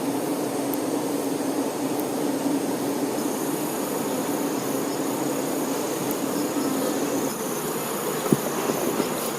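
Dense, steady buzzing of many honeybees close by, a continuous droning hum with no pauses.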